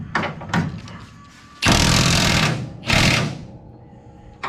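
Power tool bursts cinch down the bolts during a 1972 Challenger motor install: a few light rattling hits, then two loud buzzing impact-gun runs of about a second each, close by, with no talk.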